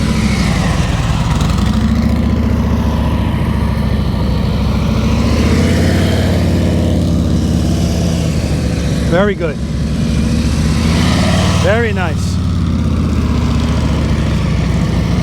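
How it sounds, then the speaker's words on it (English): Motorcycle during an advanced slow-speed riding practice session, its engine running low and steady throughout with a couple of brief surges, heard under a voice speaking. "see the motorcycle herking and jerking?"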